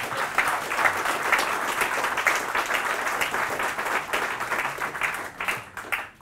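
A conference audience applauds at the end of a software talk, a steady, full round of clapping from a room of listeners that tapers off near the close.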